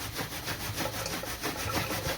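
A balloon is rubbed in a home kitchen to charge it with static, giving a steady run of close, scratchy rubbing strokes with no voices.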